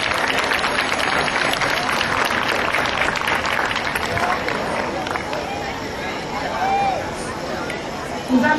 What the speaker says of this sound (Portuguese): Uma salva de palmas à comunidade não cristã de Fátima.